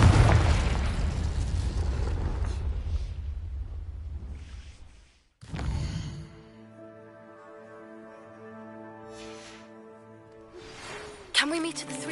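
The Confringo fire spell in the video game Hogwarts Legacy lands as a loud, rumbling explosion that fades over several seconds. A second burst follows with a humming, ringing tail, and speech occurs in the clip.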